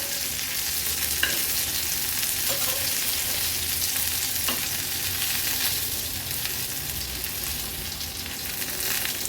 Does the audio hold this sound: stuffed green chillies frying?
yes